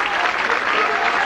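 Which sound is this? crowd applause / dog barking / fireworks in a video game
crowd applause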